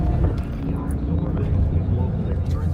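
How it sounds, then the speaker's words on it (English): An airplane lands on a freeway right in front of the listener, a steady roar of engine and road noise throughout, with people talking over it. "An airplane just landed on the freeway."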